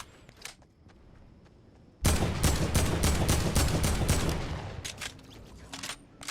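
Gunfire from the Fortnite shotgun starts abruptly after two quiet seconds, then comes as a dense, loud run of close blasts that thins out and fades toward the end.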